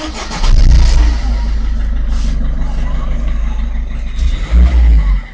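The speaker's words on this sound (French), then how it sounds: "Là actuellement le véhicule est arrêté, donc ce qu'on va faire, on va démarrer le véhicule" A car with turbo overboost is started from standstill: the engine cranks and catches with a loud burst, settles into a steady idle, then revs up briefly near the end, with voices faintly in the background.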